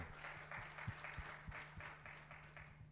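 An audience at a formal mining conference applauding, a steady patter of many hands clapping at moderate distance, fairly faint with a low hum underneath.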